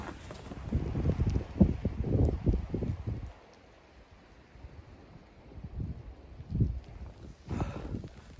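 Strong gusts buffet the microphone in irregular bursts, with a calmer stretch in the middle before the wind picks up again.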